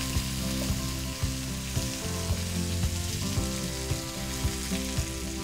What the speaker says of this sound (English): Now we're going to flip our fish to cook on the other side